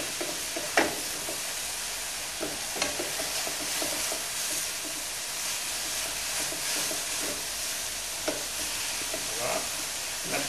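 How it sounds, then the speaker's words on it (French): Onion and garlic sizzling in a sauté pan while cooking caviar d'aubergine, a steady close frying hiss with occasional stirring clinks and scrapes, no talk. "on entend un joli bruit de casserole"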